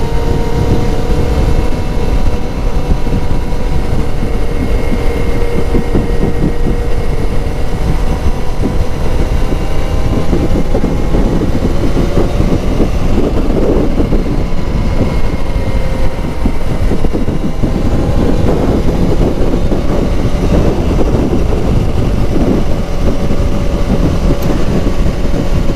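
A Kawasaki ZZR600 inline-four motorcycle with a full race Micron exhaust runs steadily nearby, a constant droning note with a few swelling revs partway through, heard alone for a long stretch.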